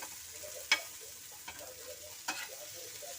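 Onions frying on a tawa for paneer tikka, a quiet sizzle with three short spatula scrapes spaced out over a faint background.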